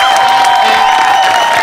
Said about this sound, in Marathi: एकदा जोरदार टाळ्या त्यांच्यासाठी झाल्या पाहिजेत